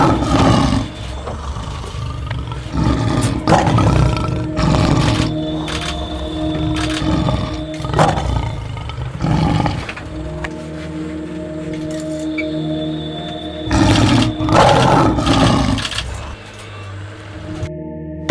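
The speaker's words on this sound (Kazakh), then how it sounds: "Арыстан." A lion roars in a string of loud, close, throaty bursts spread over about eighteen seconds, with short gaps and a low background hum between calls.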